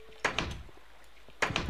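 Two wooden doors in Minecraft swing open and shut, each a quick clattering knock with a short rattle, the pair spaced about a second apart and heard close and clear.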